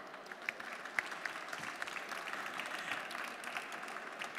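An audience claps in a hall, a sustained, moderately distant round of applause with scattered sharper individual claps, no voices over it.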